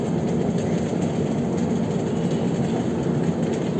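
A Rajdhani Special AC 2-tier passenger train on the New Delhi to KSR Bengaluru route rumbles steadily along the tracks while curving to the right, a loud, continuous rolling roar heard from inside.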